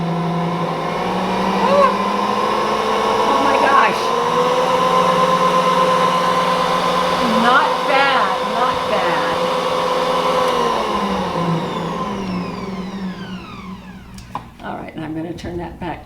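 A kitchen machine's motor is sped up and runs loud and steady for about twelve seconds, a harmonic whine that then winds down and fades. Faint clicks follow near the end. No one speaks.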